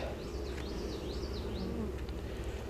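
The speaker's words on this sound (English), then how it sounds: "there's a lot of bees here" Dense, steady buzzing of many honeybees at an opened hive during a hive split, with a continuous low hum and individual bees whining past close by, loud and alone.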